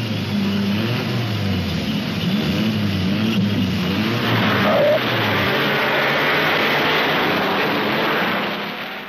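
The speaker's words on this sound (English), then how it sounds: "Fangio, world champion, leads the race with his teammate Kling close behind" Streamlined 1950s Mercedes Grand Prix racing cars at full throttle on a fast circuit such as Reims, a dense continuous engine roar that swells slightly and then fades toward the end.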